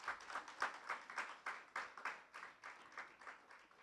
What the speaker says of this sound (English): You need to give them a round of applause over the other side.